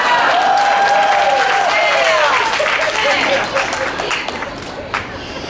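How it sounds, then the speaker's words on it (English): Loud audience applause at a live pun competition, dense clapping mixed with whoops and crowd noise that gradually thins toward the end. "How about another round of applause for our MVP,"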